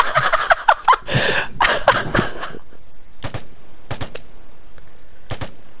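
Gunfire in the multiplayer shooter Vigor, with a rapid cluster of sharp shots over the first two and a half seconds, then several separate bursts spaced apart, loud and close.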